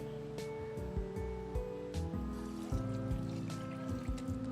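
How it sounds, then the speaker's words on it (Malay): Water is poured and sloshed into a cooking pan with onion and oil, a close, bubbling, gurgling splash with irregular pulses and no voices. "Kita masukkan air."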